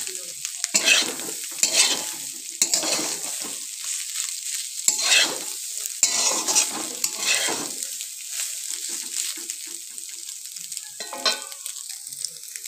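Vegetables and scrambled egg stir-fried in a wok for restaurant-style egg chowmein, with repeated bursts of spatula scraping over a steady sizzle, close and fairly loud, easing to lighter stirring toward the end.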